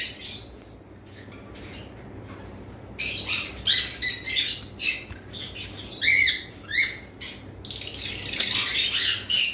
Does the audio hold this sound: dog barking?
no